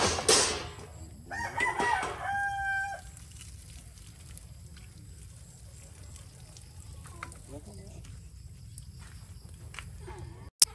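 Rooster crowing and chickens clucking in coops, with a crow and clucks in the first three seconds, fairly near, then quiet rural ambience with faint scattered bird calls.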